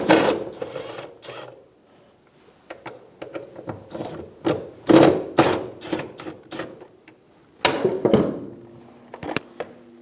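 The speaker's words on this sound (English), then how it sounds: "Using a 6mm socket, remove the 2 bolts for the module." A 6mm socket ratchet works the two bolts of the fuel pump driver module on a 2000-2007 Ford Focus, giving quick close clicking bursts in irregular runs with short pauses between them.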